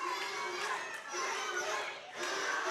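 Wrestling crowd at a CWF Voltage championship match roaring and cheering in a dense, sustained wash of voices that surges and dips, with no clear single speaker.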